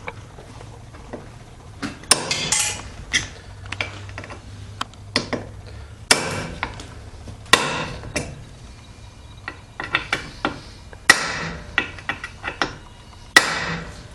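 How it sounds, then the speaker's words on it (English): A punch is struck to drive stuck rivets out of a vehicle A-arm at the ball joint housing. Sharp metallic impacts come in irregular clusters, some loud and close, over a low background hum, with no speech. "You take a punch and you just punch them through."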